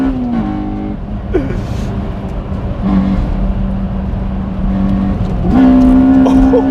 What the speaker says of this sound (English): this is how an EP3 Civic Type R should be driven. Frantic, hectic